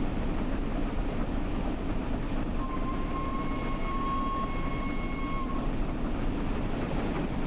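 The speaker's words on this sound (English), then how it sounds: "Jaden will be pleased to know that we are indeed driving Flying Scotsman in the correct colour" Flying Scotsman steam locomotive in Train Sim World 5 rumbles along in a steady, dense roar of running noise, with a thin whistle-like tone rising briefly in the middle and no talking.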